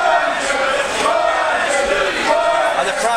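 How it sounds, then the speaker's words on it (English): A wrestling crowd at a PCW show cheers and roars steadily, a dense, loud wash of voices that stays even throughout. "the crowd's starting to get behind him now"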